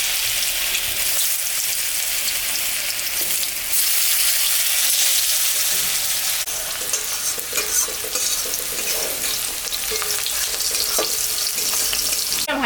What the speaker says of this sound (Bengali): তেলের উপরে আর একটু তেল আমি দিব। আলুগুলো একটু ভাজে নেব।